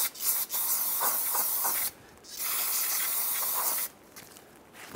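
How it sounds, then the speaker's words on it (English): Brake cleaner sprays onto a Mazda CX-9 wheel hub in loud, close bursts of hiss. Two long sprays are split by a brief gap, and a softer hiss trails at the end. "Now that we've cleaned up our hub, we're just going to finish it with some brake clean."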